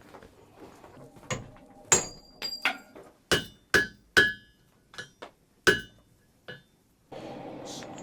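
Blacksmiths hammering wrought iron while forging an 18th-century frontier tomahawk, a dozen or so sharp ringing clinks in an irregular rhythm, close, with faint low talk early on.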